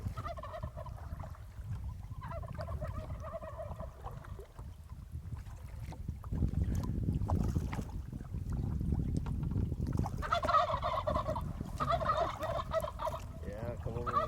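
Three wild turkeys gobble in bursts from the riverbank during a wilderness canoe trip in Utah, with water and paddling noise running underneath between the calls.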